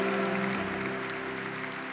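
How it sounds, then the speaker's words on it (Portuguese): A church congregation applauding, a dense steady wash of clapping that fills the room, with a faint sustained tone beneath it. "Vamos aplaudir os santos da nossa igreja."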